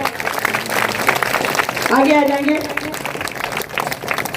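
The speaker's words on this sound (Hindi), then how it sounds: "जोरदार तालियां बजाएं" Audience applause at a church gathering welcoming an old shopkeeper of Kaptanganj market: steady, dense clapping runs throughout beneath a voice speaking over it.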